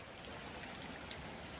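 Steady, dense rain falls throughout in an unbroken wash of patter, faint and close, with no voices or other sounds.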